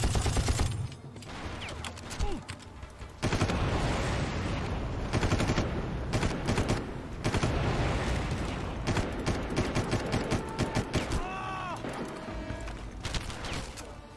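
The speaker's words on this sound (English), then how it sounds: "And I go right here and gun them all down." Dense bursts of automatic gunfire in the video game Far Cry 1, loud and close, with rapid volleys running almost continuously, a brief lull early on, then sustained shooting mixed with game effects.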